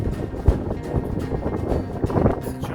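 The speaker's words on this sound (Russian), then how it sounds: "Ветер ужасный." Strong gusts batter the microphone outdoors on the left bank of the Pripyat near Chernobyl, a continuous rough buffeting roar with sharp thumps as the wind hits, close and loud throughout.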